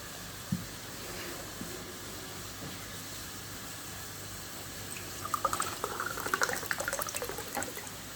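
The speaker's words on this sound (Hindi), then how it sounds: "अभी इसमें 2 कप पानी और ठंडा मिलाएंगे।" Cold water poured into Kashmiri pink tea, a soft steady liquid wash with brighter splashing and trickling bursts in the second half, close and fairly quiet with no talk.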